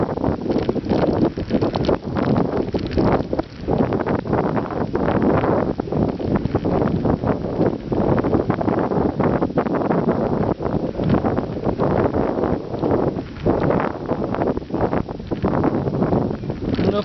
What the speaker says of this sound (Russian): борьба и с встречным ветром.